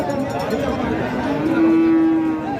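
Cattle at a busy livestock market in Kalitola, Nilphamari, where Sahiwal and Friesian cows are traded, moo continuously with a long, loud low call near the end, set against a dense bed of crowd chatter.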